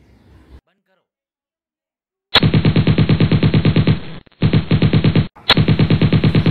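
Rapid automatic gunfire from a video game, loud and close, rattling in three bursts separated by brief gaps after a short silence, with a faint voice at the very start.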